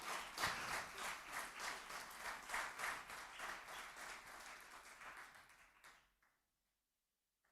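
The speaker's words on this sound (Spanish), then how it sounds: "¿Querés dar otro aplauso?" Church congregation applauding during a Spanish-language sermon, a steady burst of clapping that swells, thins out and ends abruptly after about six seconds, leaving silence.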